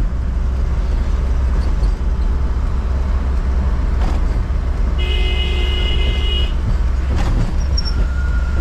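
Pickup truck driving along a busy Delhi road toward a market, with steady broadband road rumble and traffic noise throughout and a brief car horn toot from another vehicle midway.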